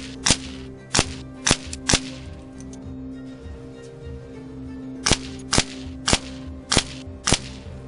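A Benjamin Trail NP .22 air rifle fires pellets in two sets of shots: four sharp cracks at roughly half-second spacing, a pause, then five more. The shots are close, loud and alone, with no talking.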